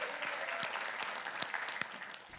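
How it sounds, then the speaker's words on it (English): Conference audience at an HR event applauding for Dave Ryan, a steady patter of many hands clapping, moderately distant and fairly quiet, with a few sharper claps standing out. "Everybody give Dave Ryan a round of applause."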